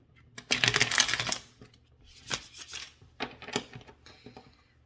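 Tarot cards are riffled and shuffled up close, a long crisp flutter followed by several shorter rustling bursts and taps.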